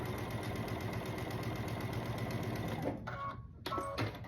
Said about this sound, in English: So let's go ahead and sew this one to this one.